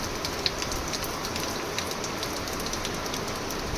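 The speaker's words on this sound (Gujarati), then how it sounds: "એના બદલે વરસાદ વધતો જતો હોય એવું લાગે છે." Rain comes down steadily over groundnut fields in Gujarat, a constant close hiss with a few sharper drops now and then and no talking.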